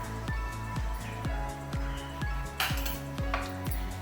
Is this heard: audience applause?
no